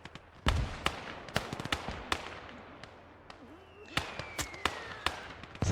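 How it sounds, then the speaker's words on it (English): Sharp explosive impacts from mortar shells in the Gates of Hell: Ostfront war game, a dozen or so irregular cracks and thumps, some close and loud, over a low battlefield rumble. "He's got a mortar hitting me."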